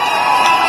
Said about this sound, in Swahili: Wapi makofi kwake.